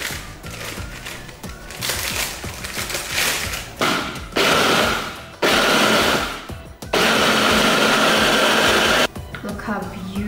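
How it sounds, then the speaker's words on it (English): A mixer attachment crushes Oreo cookies in loud, grinding bursts that start and stop several times, with short pauses and brief speech between runs. "Crush the Oreos in there. This is the attachment that I'm using."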